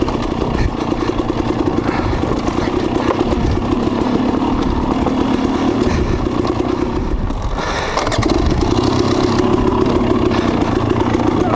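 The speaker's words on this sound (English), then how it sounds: "I like to keep the bike running when I'm going downhill like this" A dirt bike engine runs steadily with the clutch held in while the rider descends a steep trail. A loud, continuous near putter is joined by rattling clatter, with a short dip in level before the engine continues.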